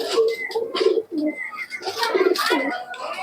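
Pakistani teddy pigeons give a run of soft, throaty coos, close and fairly loud, mixed with some brief higher chirps and a little background noise.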